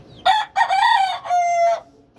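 A white fighting cock crows close by: one loud, ragged cock-a-doodle-doo in three bursts, each with strong bright harmonics, followed by a brief quiet tail.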